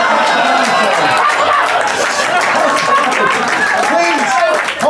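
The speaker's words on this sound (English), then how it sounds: "Please, hold your applause." Audience at a live comedy magic show clapping and cheering, a dense crowd applause with chatter and laughter mixed in, loud and continuous, with a voice speaking over it.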